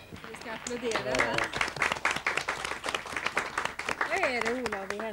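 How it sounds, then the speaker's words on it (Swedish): Audience applause, dense steady clapping throughout, with a person's voice talking and singing over it. "Vi ska applådera."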